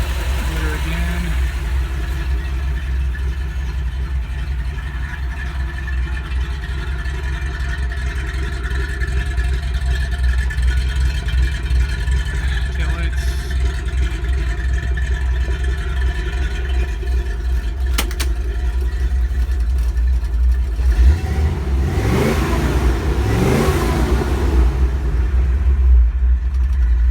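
A rebuilt 1973 Ford Bronco half-top engine runs at a steady, loud idle and then revs up briefly near the end. A person talks over it.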